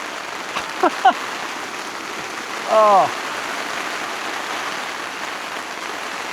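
Heavy rain drums on a tent fly sheet in Cumbria, a continuous loud hiss while a voice speaks briefly over it.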